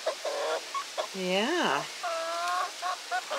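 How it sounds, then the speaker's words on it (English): A large rooster crows once loudly and nearby, with a rising and falling call, amid surrounding clucks from chickens; a person briefly speaks. "You're the biggest rooster, aren't you?"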